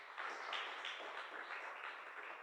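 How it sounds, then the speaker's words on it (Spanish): Church congregation clapping together at a Bible study service: a soft, continuous patter of many hands, fairly distant and quiet, holding an even level for a couple of seconds with no speech over it. "Démosle un fuerte aplauso al Señor"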